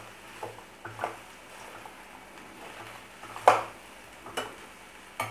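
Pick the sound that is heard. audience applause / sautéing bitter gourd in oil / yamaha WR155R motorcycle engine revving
sautéing bitter gourd in oil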